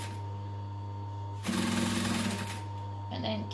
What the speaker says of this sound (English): Sew a few, back stitch a few.